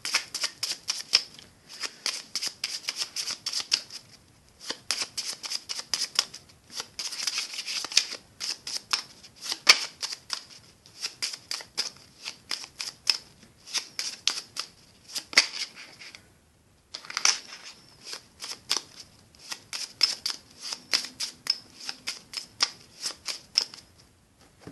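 Tarot cards being shuffled and cut by hand: a long run of crisp, rapid riffling and flicking bursts in quick clusters, with a brief pause near the middle, close and alone without talk.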